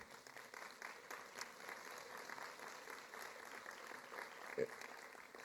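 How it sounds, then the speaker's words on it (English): An audience at a diversity and inclusion event applauds for sponsors, a soft, steady patter of clapping heard from a distance in a large room. "So give them a big applause."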